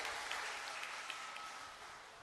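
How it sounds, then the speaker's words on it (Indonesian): Applause for three contest winners at a Pentecost church service fills the short stretch as a dense, even patter of clapping hands, fairly distant and moderately quiet. "Beri tepuk tangan untuk ketiga pemenang kita."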